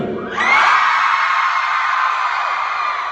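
A crowd at a live convention event lets out loud, sustained screams and whoops that rise sharply and hold steady for several seconds.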